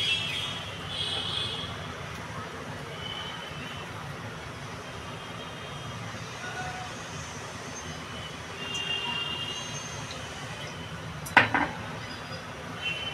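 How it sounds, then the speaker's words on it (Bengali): A kadai (wok) is set down on a home kitchen stove in a Bengali kitchen before mustard oil goes in for chela fish. One sharp metallic clank stands out late over a steady low background hum, with no other clatter. "এদিকে বন্ধুরা আমি কড়াইটা বসিয়ে দিচ্ছি"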